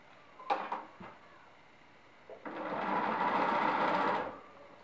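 A sewing machine runs a zigzag stitch along a fabric edge while elastic is stretched into it for a pencil skirt, a steady mechanical whir of about two seconds following a few brief handling knocks.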